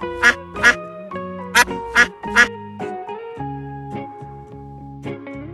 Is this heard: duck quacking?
yes